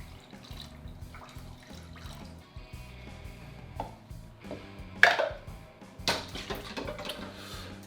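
Water runs from a tap into a pan for a simple sugar syrup, a steady splashing stream through most of the stretch with a few sharper clatters and splashes near the end, close by and moderately loud.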